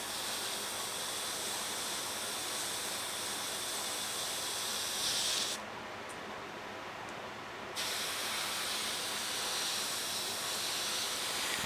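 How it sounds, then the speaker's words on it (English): An airbrush running at about 20 psi sprays thinned XF69 NATO Black acrylic onto a 1:200 RMS Titanic model part. It gives a continuous close hiss with a short break in the middle, and there is no talk. "I think I run at about 20 psi in my airbrush."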